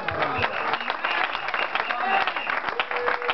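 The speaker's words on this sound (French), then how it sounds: "donnons une acclamation aussi" A church congregation claps and cheers continuously, a dense crowd of hands with voices mixed in, steady and fairly close.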